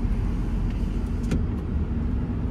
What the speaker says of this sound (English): A little bit of throttle, 1500 RPM.